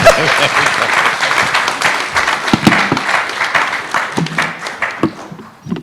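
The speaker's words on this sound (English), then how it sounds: "So a big round of applause for Captain Ram." Loud, dense applause for Captain Ram fills a business forum hall, with a crowd clapping continuously and a few voices mixed in.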